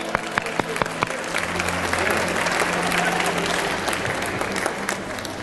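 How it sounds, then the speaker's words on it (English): An audience at a police activities league annual fundraising luncheon breaks into dense, steady applause, close and continuous, with a few sharper claps standing out and faint voices mixed in. "Give ourselves a round of applause."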